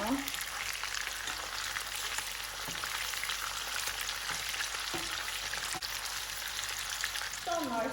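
Steady crackling sizzle of meatballs frying in a pan, with occasional soft scrapes as they are turned.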